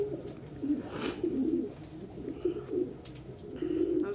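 Pigeons coo softly and steadily in a home loft at breakfast time, low, rolling calls repeating close by with faint background noise and no talk.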